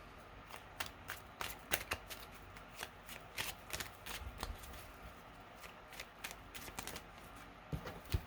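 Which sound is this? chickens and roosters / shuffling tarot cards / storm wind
shuffling tarot cards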